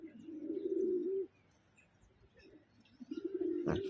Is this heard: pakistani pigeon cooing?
yes